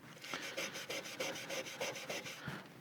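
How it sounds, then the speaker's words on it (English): Steel wool scrubs heavy corrosion off a guitar fingerboard in quick, steady back-and-forth strokes, a close, raspy rubbing rhythm repeating about four times a second with no voices. "Now we've got our steel wool, and this works pretty good for getting that heavy corrosion."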